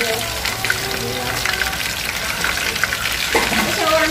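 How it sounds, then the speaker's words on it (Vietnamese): Shrimp sizzling in a frying pan, cooked at home during a seafood meal with rain falling outside, giving a steady close crackling hiss with faint voices in the background. "qua đây mình chiên tôm"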